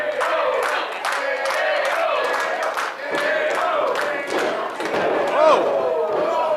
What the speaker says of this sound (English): Crowd getting up on Jesse.